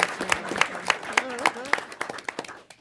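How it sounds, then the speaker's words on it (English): Scattered hand clapping from a small audience at a county board of commissioners meeting, regular claps heard under a person speaking. "A round of applause for this group."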